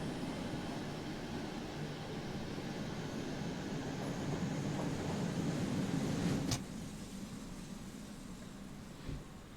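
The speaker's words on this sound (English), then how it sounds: "A speeding locomotive" A locomotive in blue and cream livery speeds along the Mittenwaldbahn in Train Sim World 5, giving a steady, loud rolling rumble and rail roar that drops suddenly near the end, with a brief sharp clack.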